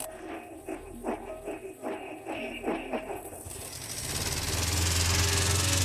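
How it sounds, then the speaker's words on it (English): An old ambulance's Maybach engine turns over in uneven cranking bursts as the starter is shorted, then catches and settles into a steady, loud running roar. "We short the starter, here it is, and at the same time we need to open the carburetor."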